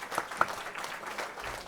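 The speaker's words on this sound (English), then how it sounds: "There's your little applause" Small, faint scattered applause for Helena Bunker, a handful of people clapping lightly and briefly at a distance.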